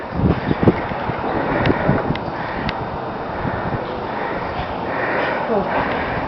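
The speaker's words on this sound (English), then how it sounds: "Yeah, you get a lot of wind," Wind whips across the top of an observation tower in Parry Sound, Ontario, making a steady, gusty roar that buffets the microphone, with faint voices now and then.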